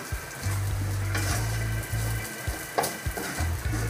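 Rice, vegetables and bacon bits fry in a pan, a soft sizzle broken by repeated low scraping strokes of a utensil stirring, plus a few light knocks, close and without talk.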